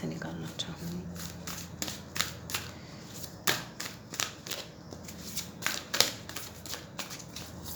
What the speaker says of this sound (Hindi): 2 कार्ड्स मैं इस डेक से निकालना चाहूँगी।